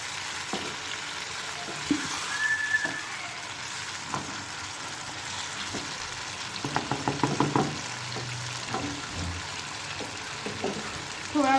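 Chicken with onion and capsicum masala frying in a pan, a steady soft sizzle with occasional scraping and stirring as the mixture is turned.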